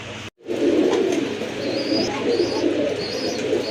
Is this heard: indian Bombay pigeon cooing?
yes